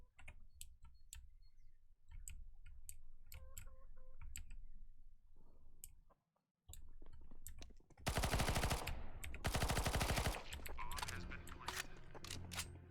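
Counter-Strike gunfire: bursts of automatic rifle fire crackle loudly in the latter half, preceded by scattered clicks and quieter game sounds, with a short silent gap partway through.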